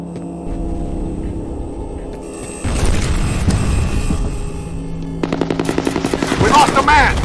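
Heavy automatic gunfire from the combat game F.E.A.R., loud bursts and booms that intensify midway, with rapid repeated shots near the end and faint voices underneath.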